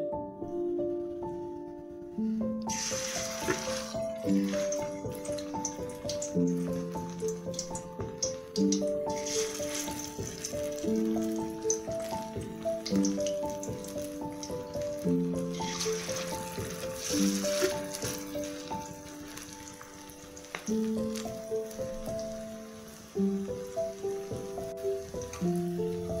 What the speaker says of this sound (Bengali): তেলটা গরম হয়ে গেছে, এবার আমি কোপ্তাগুলো দিয়ে দেবো।